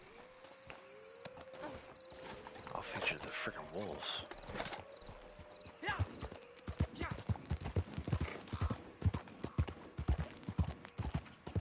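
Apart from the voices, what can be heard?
horse hooves in video game Red Dead Online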